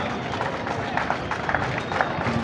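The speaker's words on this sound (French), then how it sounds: "je voudrais qu'on puisse applaudir le chef de l'État" An audience applauds the head of state at the inauguration of a customs building in Haut-Katanga, a broad crowd clapping in a continuous, rippling wash with murmuring voices mixed in, moderately loud and spread out.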